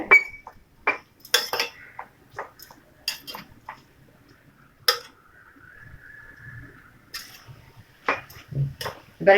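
A utensil scrapes and clinks against a cooking pan in intermittent bursts while stirring banana flower rice, with a soft sizzle between strokes.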